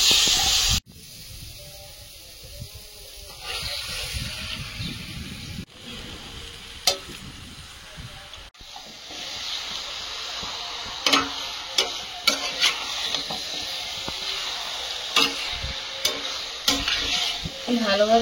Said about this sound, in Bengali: ভালোভাবে মাংসটা কষিয়ে নেব।